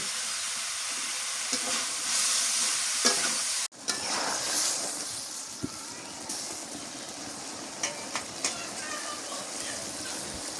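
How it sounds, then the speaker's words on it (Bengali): Fish and bean seeds sautéing in a village kitchen pan, a loud close sizzle with scraping stir strokes and a few sharp knocks, briefly dipping midway before the frying hiss resumes. "মাছ আর সিমের বিচি ভালো করে কষায় নিলাম।"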